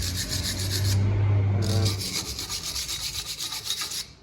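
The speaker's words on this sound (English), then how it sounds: "So make sure you clean this very well. We're gonna use a wire brush." A wire brush scrubs rust from a Mazda CX-5 brake hub in loud, rough rasping strokes, continuous at first and then coming in quicker, choppier scrapes before stopping. No one speaks.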